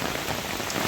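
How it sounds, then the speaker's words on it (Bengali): Heavy rain pours down outdoors in a dense, steady hiss of drops striking surfaces close by, unbroken and without voices. "বাহিরে প্রচণ্ড ভারী বৃষ্টি হচ্ছে"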